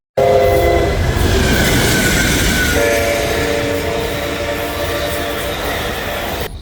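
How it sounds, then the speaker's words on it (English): A loud train horn blares as a train rumbles past close by in a quiet Illinois town, the long honks fading into the steady roar of rolling cars. "The peacefulness of this quiet town was quickly interrupted by a train."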